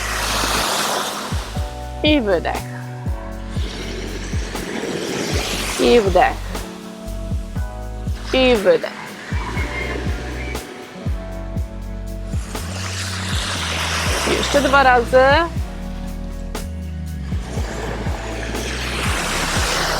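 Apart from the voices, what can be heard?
sound of ocean waves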